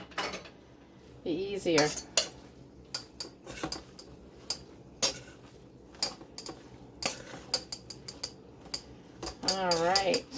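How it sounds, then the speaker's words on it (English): Metal spoon stirring spinach pie filling in a bowl, with repeated clinks and scrapes against the sides, moderately close, under a few brief spoken words. "I'm going to stir. Matter of fact, I'm going to use a spoon."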